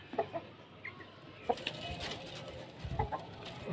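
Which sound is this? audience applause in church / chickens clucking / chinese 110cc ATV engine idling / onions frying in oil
chickens clucking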